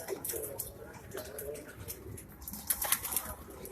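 Pigeons roaming free outdoors give soft, low coos amid faint rustling and occasional wing sounds, quiet and somewhat distant with no voices.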